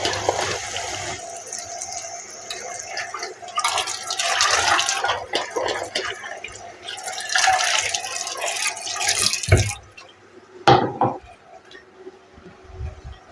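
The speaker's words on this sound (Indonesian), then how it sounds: "Cuci dulu ya untuk bawang merah, bawang putih, cabai rawit ya, dan juga dikasih cabai besar satu aja." Running tap water splashes over shallots, garlic, bird's eye chilies and a large chili being washed by hand, a busy close gush with surges and pauses, ending in a few sharp drips and clatters.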